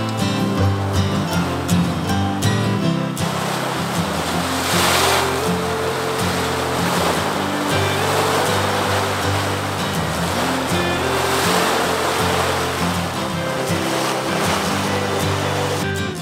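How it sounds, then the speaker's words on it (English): Churning Caldron, a mud pot in Yellowstone's Mud Volcano area, churns and throws muddy water in a loud, continuous roiling wash with no talking. "This one is impressive as it throws muddy water 3 to 5 feet up in the air."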